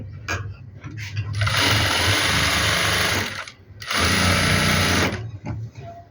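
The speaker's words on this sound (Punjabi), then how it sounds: "ਇਸ ਤਰ੍ਹਾਂ ਆਪਾਂ ਸਲਾਈ ਲਾ ਲੈਣੀ ਹੈ" Sewing machine running in two long, loud bursts separated by brief pauses, stitching a designed neckline on a printed suit, with fast, steady mechanical clatter up close.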